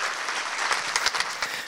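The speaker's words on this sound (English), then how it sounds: "Can you give a warm round of applause and welcome to Robert Holden?" A live audience gives a warm round of applause to welcome the guest speaker at a coaching talk, steady dense clapping filling the room with a few sharper claps standing out.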